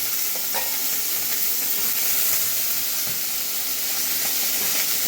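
Diced potatoes drop into a hot pan of oil and sizzle hard with a dense, steady hiss that runs unbroken for several seconds, with faint stirring scrapes on top and no voices.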